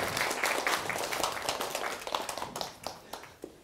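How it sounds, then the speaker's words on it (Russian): An audience claps to welcome a lecturer at a talk, a fairly dense round of applause that thins out into scattered individual claps toward the end, moderately distant. "под аплодисменты встречаем нашего первого лектора Владимира Зорина"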